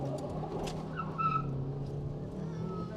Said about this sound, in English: Let me try a wheel spin, actually.